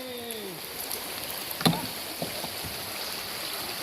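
A kayak paddled one-handed on a nature outing, with soft water swishes and a single louder splash of the paddle dipping, over quiet ambience and a brief faint bird call at the start.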